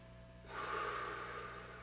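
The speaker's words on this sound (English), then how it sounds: "A couple deep breaths to ground it down" A deep, audible breath drawn in sharply through the nose in a quiet room, a single long inhale that rises suddenly and trails off.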